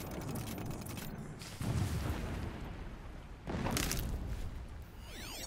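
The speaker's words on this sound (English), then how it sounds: "The explosions we have here." Heavy explosions in the Horizon Zero Dawn video game go off as two deep, rumbling booms over a steady backdrop of game noise, with no talking.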